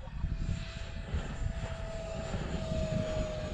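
Arrows T33 Shooting Star RC jet, run on a 4s 1300 battery, flying high overhead with a faint, steady electric ducted-fan whine and a thin sustained tone, distant and continuous.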